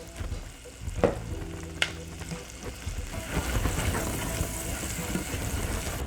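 Onion sizzles and crackles in a hot pan, close and steady, with a couple of utensil clinks and scraping as it is stirred.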